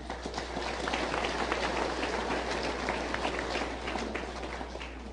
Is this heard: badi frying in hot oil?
no